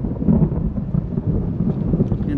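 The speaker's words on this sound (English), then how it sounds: "There's our thunder." Thunder rumbles low and heavy during a humid storm near Vicksburg, Mississippi, in two rolling surges of deep noise heard from inside a moving vehicle, with no one talking.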